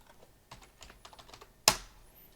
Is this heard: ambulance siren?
no